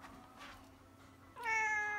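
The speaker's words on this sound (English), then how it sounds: "give us a meow, Chico." A pet cat gives a single clear, drawn-out meow near the microphone after a quiet stretch of faint room noise.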